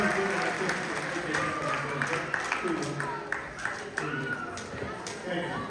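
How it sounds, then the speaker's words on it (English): A crowd at a holiday science show gives a round of applause, continuous clapping with scattered louder hand claps, while people talk over it. "Let's give a round of applause."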